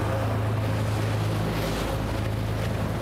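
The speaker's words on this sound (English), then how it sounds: "the boat rocking with the swells, the persistent moan of the diesel engine" A fishing boat's diesel engine drones low and constant while trolling at sea for marlin, a deep unbroken hum mixed with wash of water and wind, no voices.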